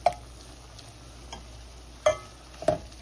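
A spoon scrapes and clinks a few times in a pan as tomatoes are stirred into frying shrimp curry, sharp isolated knocks over a soft, low sizzle.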